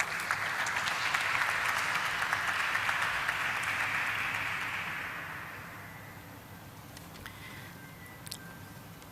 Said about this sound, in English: Let's once again welcome him on stage with a round of applause.